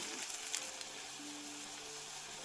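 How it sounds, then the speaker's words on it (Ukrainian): A soft, steady sizzle of potato pancake batter frying in oil over medium-low heat, a quiet hiss throughout with a faint tonal hum and no talking. "смажимо дируни на нижче середньому вогні"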